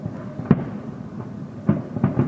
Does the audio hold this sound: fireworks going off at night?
yes